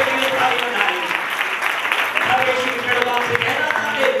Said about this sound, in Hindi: इस अभिषेक के लिए ताली बजाएं